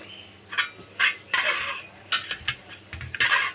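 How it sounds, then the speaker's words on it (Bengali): A spoon scrapes and clinks against a pot as soaked lentils are stirred into cooked meat, a series of sharp metallic knocks and scrapes in an irregular rhythm, close and fairly loud. "এখন আমি ভিজানো ডালটা এর সাথে দিয়ে দিব,"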